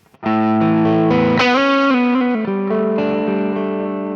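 A lead guitar through a Mesa Boogie Mark IIC+ amp simulation with a warm, low-gain, lightly overdriven tone plays a short melodic phrase of sustained notes, up close and alone.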